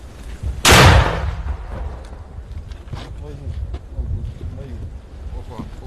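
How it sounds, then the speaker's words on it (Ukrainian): A single loud, sharp blast of a mortar firing rings out nearby on a front line in Ukraine, followed by rumbling wind noise and voices talking. "Постріл!"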